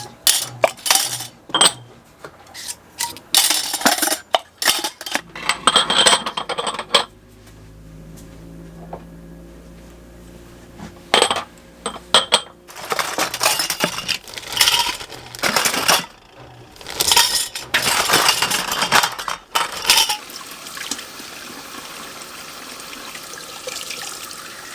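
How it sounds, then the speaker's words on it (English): Forty-eight new glass Ball jars and their plastic lids are washed by hand, with bursts of clinking glass and rattling lids alternating with running water from a tap, close and busy, with no talking. "I'm going to take these 48 new ball jars and I'm going to wash them all along with the plastic lids"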